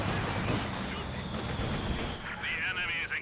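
Gunfire and an explosive grenade blast from a Company of Heroes 2 battle, a short burst of close, loud shots and a boom with a voice talking over them.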